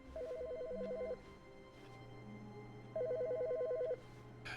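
A telephone rings inside the video game The Stanley Parable, two clear bursts of rapid electronic trilling a couple of seconds apart, fairly close over a low steady room hum.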